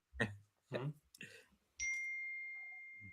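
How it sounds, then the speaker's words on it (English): A phone notification chimes once as a single bright tone that rings and slowly fades over more than a second, following a few short bursts of nearby talk. "whose phone's going off?"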